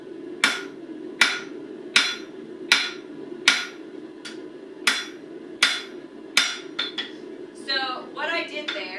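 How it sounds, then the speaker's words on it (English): Steel being hammered back on itself while forging blacksmith's scrolling tongs: about ten sharp, ringing metallic blows at a steady pace, close and loud, with quicker lighter taps and a scraping clatter toward the end. "Let's hammer that back on itself."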